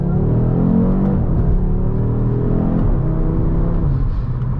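From inside the cabin, a 2023 Audi RS 3 engine pulls hard under acceleration, a loud, steady low rumble that rises and shifts pitch without a break.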